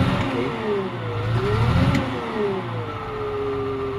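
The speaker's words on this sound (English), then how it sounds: "Hear the sound of the engine." A Cat 950H loader's engine, misfiring or low on power with an injector fault, idles with a steady mid-pitched drone and low rumble, rising and falling slightly as it revs, close by and with no one talking.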